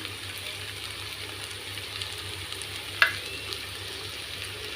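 Okra fry with peanuts sizzles in a pan: a steady, soft frying hiss runs throughout, with one brief clink near the middle, fairly close and without talk.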